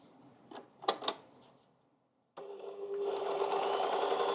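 A Baby Lock Enspire serger sewing a rolled hem: a few soft clicks and taps, a brief silence, then the machine starts and runs in a smooth, even, fairly quiet whir that holds steady to the end.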